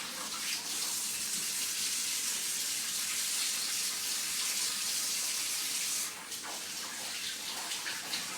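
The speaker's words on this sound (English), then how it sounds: "I'm going to wash my hands" A bathroom tap runs steadily for hand washing, a continuous close hiss of water that softens briefly near the end before carrying on.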